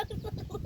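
Chicken clucking close by, a short burst of low, throaty clucks in quick succession.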